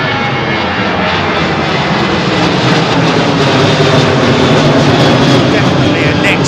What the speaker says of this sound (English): Definitely a next generation jet